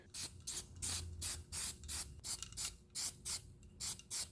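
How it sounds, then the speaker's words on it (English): Short hissing bursts of primer sprayed from an aerosol can during a brake job, about a dozen quick puffs in an even rhythm, close and fairly quiet with brief silences between. "Now go ahead and spray this thing."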